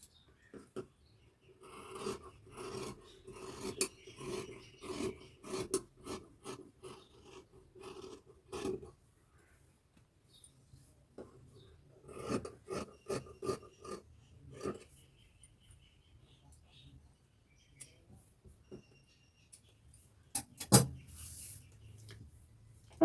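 Scissors cutting through blouse fabric, a steady run of crisp snips and rustles at close range with no talk, pausing midway before a few more cuts and a brief sharper clack near the end.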